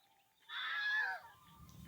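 A chicken clucks once in a Roblox game, a brief bright burst of fowl sound in the middle of an otherwise quiet moment, with faint low rumble after.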